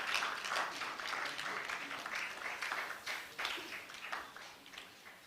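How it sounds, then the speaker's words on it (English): Audience clapping at a public lecture continues at a soft, distant level, a dense patter of many hands with slight surges and no voices standing out. "Let's clap, let's clap, let's clap, let's clap, let's clap."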